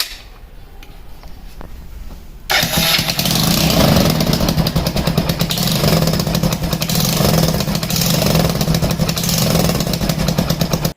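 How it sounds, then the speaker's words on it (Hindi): A motorcycle with a faulty silencer starts after a couple of quiet seconds of clicks, then runs loud and close with a rough, raspy, steady engine roar that continues to the end. "तो बाइक को ऑन करते हैं।"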